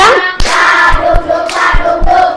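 A classroom does the 'tepuk semangat' clapping chant: loud, close, rhythmic group hand claps in a steady pattern, mixed with voices chanting along.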